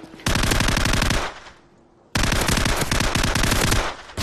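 Call of Duty 4 multiplayer gunfire: two long, loud bursts of rapid automatic fire separated by a short lull, close and dominant over everything else.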